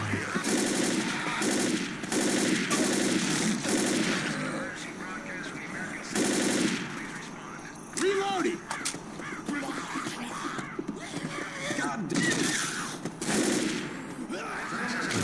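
Gunfire in the video game Left 4 Dead, with rapid automatic bursts in repeated clusters mixed with game effects and cries, while voices talk intermittently between and over the shots.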